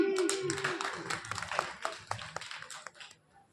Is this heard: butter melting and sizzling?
no